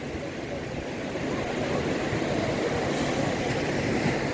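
Ocean surf rolls onto a beach in Goa as a steady, broad wash of breaking waves, swelling slightly louder partway through and continuing without pause.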